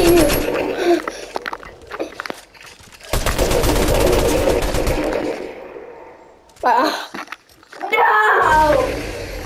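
Rapid automatic gunfire in the battle royale video game Fortnite, loud bursts of shots with a long sustained volley in the middle, mixed with players talking excitedly over the game sounds.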